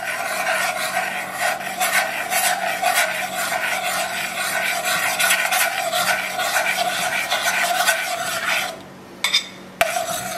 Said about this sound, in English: We will stir in our semolina.